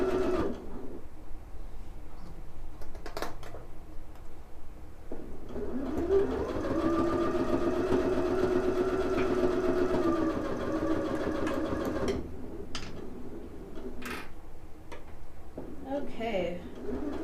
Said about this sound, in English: you can absolutely use your 1/4 inch foot when you're sewing your stuffies together